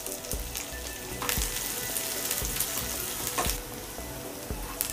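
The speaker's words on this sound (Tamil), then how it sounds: "வெங்காயம் கருவேப்பிலை ரெண்டையும் சேர்த்து நல்லா வதக்கிக்கோங்க." Onions and curry leaves sauté in hot oil for a Kerala paneer pollichathu, giving a steady close sizzle with repeated scrapes and clinks of a spoon against the pan and no voices.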